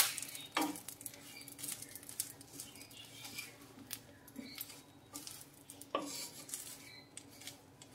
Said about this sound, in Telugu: ఇలా మొత్తం అంతా కూడా బాగా కలుపుకుంటూ ఫ్రై చేసుకో